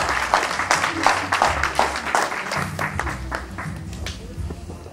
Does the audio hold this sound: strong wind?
no